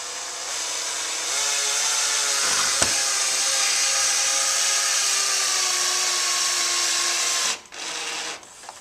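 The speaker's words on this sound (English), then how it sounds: "I always slow the drill down, have it on low power to give you a little extra torque." A power drill set to low speed whirs steadily for about seven seconds while driving screws into a curtain rod bracket, then cuts off abruptly, leaving a few faint handling sounds at the end.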